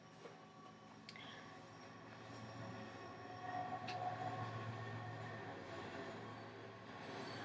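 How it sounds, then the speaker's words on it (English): A train rolls past a house nearby, a steady broad rumble of rail noise that swells slightly midway and holds throughout with no speech over it. "the train is going by my house and you can totally hear it right now"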